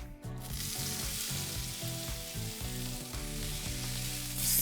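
Walnuts and apples frying in olive oil in a pan give a steady, close sizzle with faint stirring clatter throughout.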